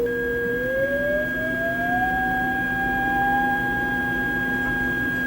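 A steady pure electronic test tone, set to a high pitch, sweeps gently upward over the first two seconds and then holds alone at constant loudness, with a lower steady tone sounding beneath it.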